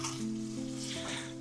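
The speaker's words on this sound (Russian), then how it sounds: "лук жарится" Chopped onions fry steadily in a hot pan for a mushroom cream soup, a continuous close sizzle with soft stirring scrapes and no voices.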